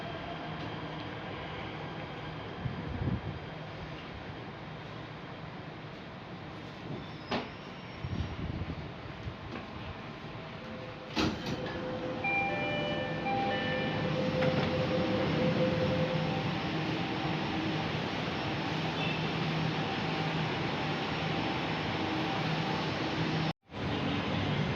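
MRT Jakarta metro train pulling into ASEAN station, a steady loud rumble and hiss of the carriage with a few brief clanks and tonal squeals near the middle, ending in a sudden sharp dropout.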